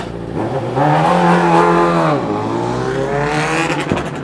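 Scott Redding's BMW superbike heading onto the track during testing at Jerez, a loud, close engine whose pitch climbs, drops off sharply, then rises again before fading.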